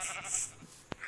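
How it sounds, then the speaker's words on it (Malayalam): A Minecraft sheep gives a short, thin bleat from the game, followed by a brief sharp click near the end, faint and isolated with no talking. "2 ഷീപ്പ് കിട്ടിയിട്ടുണ്ട് ഗൈസ്."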